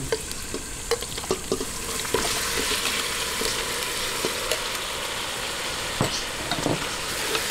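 Chicken frying in a pan for arroz caldo, a steady close sizzle with occasional stirring clatters and scrapes throughout.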